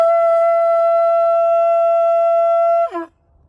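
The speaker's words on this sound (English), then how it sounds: "I sound the conch shell because that was a sound of liberation during the times of enslavement." A conch shell blown as a call of liberation sounds one long, steady, loud horn-like tone that holds for nearly three seconds, then bends down and cuts off, with quiet afterward.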